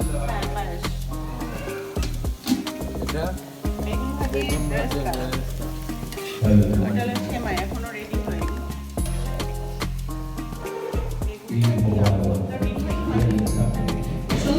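Eggplant slices and eggs frying in oil for an Eid breakfast, a continuous loud sizzle with occasional stirring scrapes, a voice talking over it throughout.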